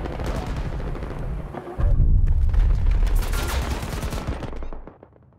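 Heavy gunfire in the Battlefield 2042 video game: rapid machine-gun bursts and booming explosions pound at close range, loud and continuous, then drop away at the end.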